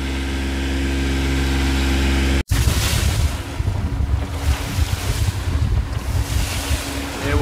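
A single-handed trailer sailboat beats to windward through a lumpy sea off Fathom Island on the Barrier Reef. Steady wind roar and rushing, sloshing water fill the whole stretch, interrupted once by an abrupt break, with no voices.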